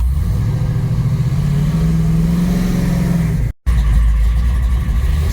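A 1970 Plymouth Cuda with a 440 six-barrel V8 rumbles loudly up close, engine revving to a rising droning pitch, then briefly cutting out before settling back to a heavy idle.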